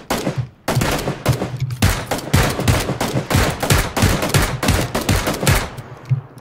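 Rapid gunfire in the video game PUBG crackles in dense, irregular bursts, loud and close, continuing almost without pause for several seconds.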